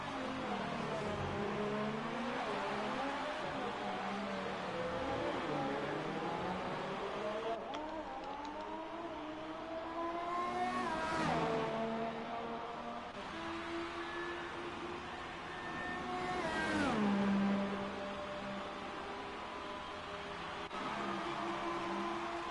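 Formula racing cars in the F1 2018 video game, McLaren and Renault, give a continuous high engine drone with rising and falling revs and gear shifts, steady and fairly loud throughout.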